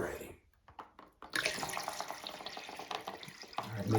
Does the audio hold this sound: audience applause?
no